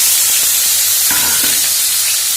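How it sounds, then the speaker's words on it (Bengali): Black cumin, chopped ginger, tomato and green chili fry in hot oil in a pan, giving a steady loud sizzle with a few brief stirring scrapes near the middle. "এখন ভালো করে ভেজে নেব।"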